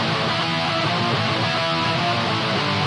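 Heavy distorted electric guitar from a Mesa Boogie Dual Rectifier profile blended with a Synmix Blonde P-Mod tone. The layered sound is thick and loud, held steady throughout without any talking.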